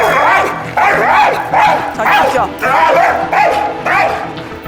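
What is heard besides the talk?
dog making an unusual bark-like sound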